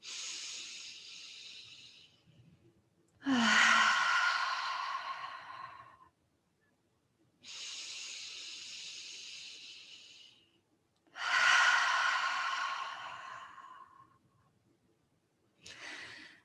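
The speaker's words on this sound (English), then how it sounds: "Just breathing deeply in through the nose and out through the mouth." Slow deep breaths, drawn in through the nose and pushed out through the mouth, three long airy inhales and exhales in steady alternation, close and soft with no speech.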